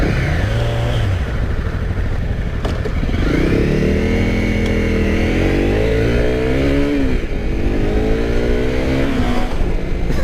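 A Honda CRF 250 Rally motorcycle engine drones loudly and close while riding, its pitch rising and falling as the rider throttles up and eases off, with wind noise throughout.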